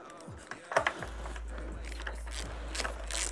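Ratchet wrench tightening bolts during reassembly of an MBK ZX scooter, a few quick clicking bursts close by with a steady low hum underneath and no talking.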